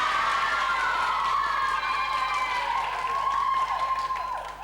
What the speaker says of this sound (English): I hate it when they applaud people younger than me